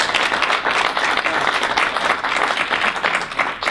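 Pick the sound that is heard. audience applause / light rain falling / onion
audience applause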